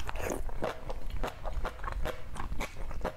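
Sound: crunching vegetables while eating

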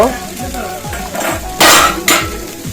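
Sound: potato, pointed gourd and spices being stir-fried

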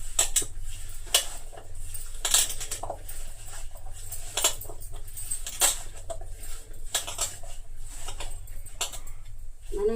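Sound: mixing taro root pieces with spice powder in a pan

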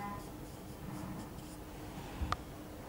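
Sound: writing on a board during a lecture

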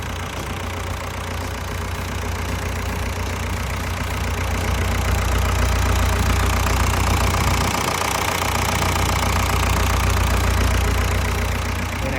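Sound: excavator four-cylinder turbo diesel engine idling

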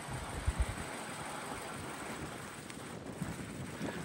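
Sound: wind blowing outdoors

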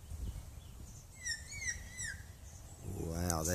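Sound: hawk cry

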